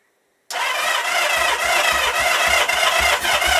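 A 1977 Kawasaki KZ650 motorcycle engine catches and fires up after a moment of silence, roaring loud and close with a rough, uneven rumble as it runs on. No one talks.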